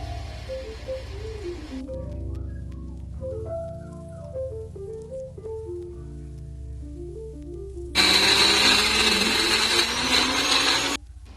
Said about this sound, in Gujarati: બે બિસ્કિટને આવી રીતે મિક્સરમાં ક્રશ કરી લીધું છે